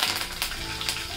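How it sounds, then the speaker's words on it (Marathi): Cumin seeds, asafoetida and curry leaves hit hot oil in a kadhai, giving a steady close crackling sizzle with a few sharper spitting bursts, no voices. "तेल चांगलं गरम झालेलं आहे बघा। याच्यामध्ये जिरे घालते, हिंग, कढीपत्ता,"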